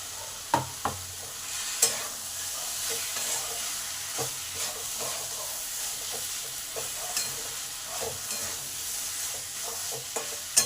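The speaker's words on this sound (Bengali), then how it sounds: "এই সময় এই পেঁয়াজ আর ক্যাপসিকাম এইগুলো দিয়ে দিলাম" Onions and capsicum being stir-fried for egg chilli, a steady sizzle broken by repeated sharp scrapes and clacks of a spatula against the pan at an irregular pace.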